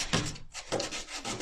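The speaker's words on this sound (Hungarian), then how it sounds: "egy ilyen sima smirglivel is meg tudod tenni, hogy így megcsiszolgatod" Plain sandpaper rubs by hand over filler and old finish on a piece of old socialist-era wooden furniture, a few short scratchy back-and-forth strokes close up.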